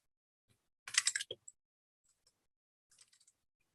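Short bursts of typing on a computer keyboard, a quick flurry of key clicks followed by a pause and then a second, fainter burst, quiet and close with no talk.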